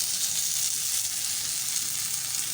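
Butter sizzling and frying on a bajra (pearl millet) roti on the griddle, a steady close hiss that holds at an even level throughout, with no talking.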